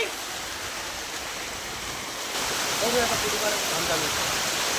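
Steady rushing water and rain hiss on Anjaneri hill during monsoon rain fill the clip, growing louder about halfway through, with a faint voice briefly audible beneath.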